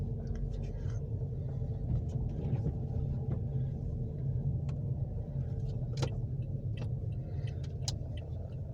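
A car engine hums in a steady low rumble from inside the cabin while a beginner drives for the first time, with small clicks and handling noises over it.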